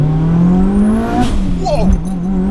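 A 550bhp 2.3 stroker Mitsubishi Evo 6 launching hard in first gear, its engine note rising loud and close with a sharp climb and brief gear-change dip, a voice briefly audible over it.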